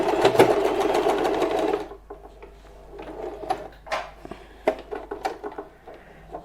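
A sewing machine stitches fabric for a small devotional bed set in a quick loud burst, then stops, leaving scattered clicks and handling knocks of the cloth and machine parts.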